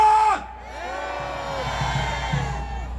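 A crowd at a political rally near the National Assembly roars and shouts, a sustained massed cheer that swells after a voice cuts off and carries on loudly with layered yells.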